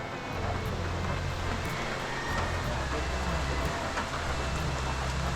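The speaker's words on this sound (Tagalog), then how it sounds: "Abutan tayo ng ulan." Rain falls steadily as a dense, even hiss with scattered drops, near and continuous, alongside a low rumble and some speech.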